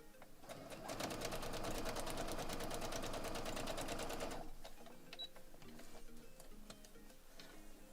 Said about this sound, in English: sewing between that 1 and that 2